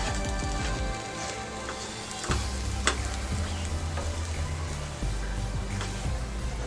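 Moong and egg uttapa sizzling on a pan over a low flame, a steady frying hiss with a few scraping stirs and clicks of a spatula, close and moderately loud.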